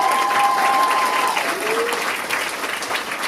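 Audience applause fills a dance recital hall, steady and loud from start to finish with dense clapping throughout, a few faint tonal traces drifting in the background.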